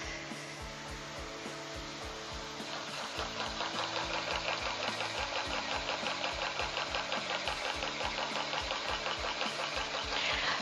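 An Electric Eel Mini electric spinning wheel spinning cotton hums with a close, rapid mechanical whir and steady rhythmic ticking, growing a bit louder partway through, with no talking.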